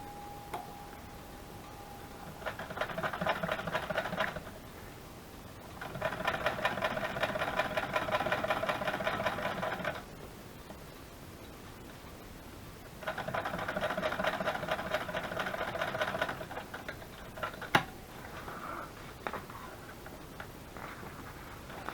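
Sewing machine running in three long, steady stitching bursts with quiet pauses between, fairly near and alone with no talk.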